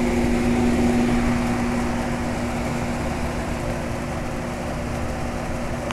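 A circa-1975 York Champion IV "Tombstone" central air conditioner runs steadily with a constant droning hum and a sustained low tone, loud and unbroken throughout, with no voices.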